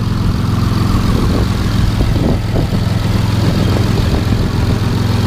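A turbocharged Honda J32 engine in an Accord idles with a steady low rumble and faint mechanical ticking, continuous and close, with no voices.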